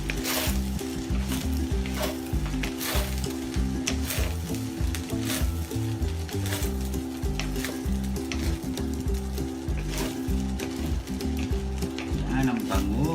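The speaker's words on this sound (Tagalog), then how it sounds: "So i-mix lang po natin siya ng i-mix para mag-blend uli ang ating nilagay na" Beef fried rice with onion leaves is stir-fried in a hot pan, giving a steady, close sizzle with scraping stir sounds over low background music.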